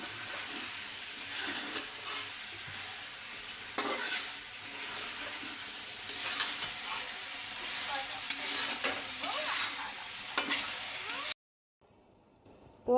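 Steady sizzling of a curry of stinging catfish and taro frying down in a pan, with a spoon stirring and scraping now and then, close up; it cuts off abruptly near the end.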